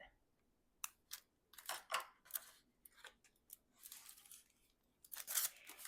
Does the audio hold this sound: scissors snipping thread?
yes